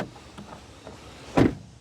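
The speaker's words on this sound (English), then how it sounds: "let's listen to the sound of the closing door." The door of a 2024 Final Edition performance pickup truck swings shut with one heavy, solid thud, close by and loud, after a few faint clicks and rustles.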